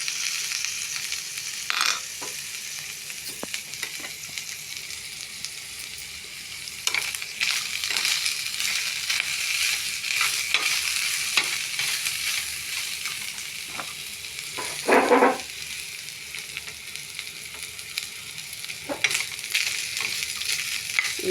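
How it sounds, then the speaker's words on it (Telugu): Coconut pieces fry in a pan for a sweet flattened-rice offering, crackling and sizzling continuously up close, with scattered stirring clicks and scrapes and a short louder scrape partway through. "ఇదిగోండి కొబ్బరి ముక్కలు వేయించుకుంటున్నాను ఆల్రెడీగా"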